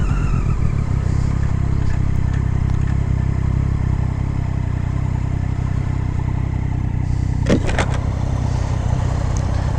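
Triumph Daytona 675 R three-cylinder sport motorcycle ridden on a road, a steady loud engine drone with wind rush throughout and a brief clattering burst near the end.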